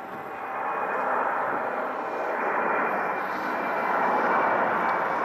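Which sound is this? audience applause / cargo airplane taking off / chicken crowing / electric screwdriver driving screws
cargo airplane taking off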